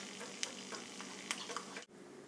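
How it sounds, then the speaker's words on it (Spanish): Eggs fry in oil over low heat, giving a soft, quiet crackle with scattered small pops and a brief stir, close by, without talk. "Simultáneamente vamos friendo los huevos."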